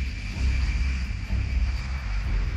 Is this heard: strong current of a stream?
no